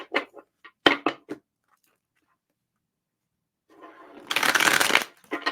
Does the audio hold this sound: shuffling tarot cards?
yes